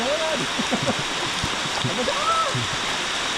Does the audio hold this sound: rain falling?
yes